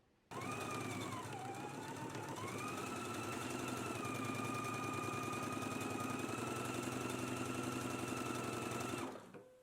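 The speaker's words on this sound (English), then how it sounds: "I'm going to do a row of stay stitching all the way along the top edge" A sewing machine running one continuous stay-stitching pass along the top edge of a waistband, with a steady close whir and fast rhythmic needle chatter lasting about nine seconds before stopping.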